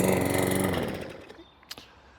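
A Qualcast XSZ46E-SD petrol lawn mower engine runs with a loud, buzzing drone that winds down and cuts out after about a second, followed by a few faint clicks and quiet.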